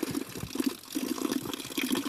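Water trickles and splashes steadily from a small forest fountain in the middle of the woods beside an ice waterfall, a continuous moderate gurgling flow with no voices.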